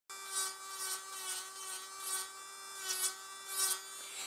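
A nail file rasps along the sides of stiletto-shaped nails, with repeated short rubbing strokes in an even rhythm, faint and close, alongside a steady electrical hum.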